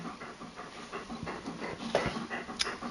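A pet dog pants close by in a room while its owner is gaming, a soft, rapid breathy rhythm that continues throughout over a faint background hum.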